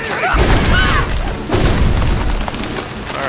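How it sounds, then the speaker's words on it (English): Spell impacts and magical bursts from ice bolts being cast in the fantasy role-playing game Neverwinter Nights 2, a run of loud booming thuds with swishing tones, under a noisy battle mix. "We want to shoot ice bolts."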